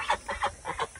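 A large domestic drake of about three kilograms, set free from someone's hands, lets out four or five loud, close honking quacks in quick succession.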